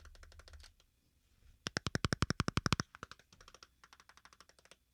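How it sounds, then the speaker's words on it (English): Cheap plastic power button on a SANSHREUNI C22 Ultra phone clicked rapidly and repeatedly, sharp close taps in quick bursts with a dense run in the middle and a faint rumble at the start. "that is the sound of the plastic on the phone."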